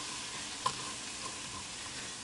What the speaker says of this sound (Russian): Теперь сюда же высыпаем муку и помешиваем ее непрерывно.